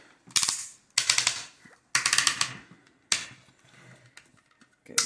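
Sharp ratcheting clicks from the joints of a Transformers Kingdom Titan class Ark toy come in four close, loud bursts of rapid clicking with short pauses between them.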